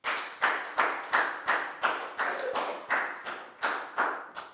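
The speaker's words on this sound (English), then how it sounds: "a big round of applause for Prel" A class of students clapping together in a steady rhythm, about a dozen evenly spaced loud claps in unison, close and clear with no talking.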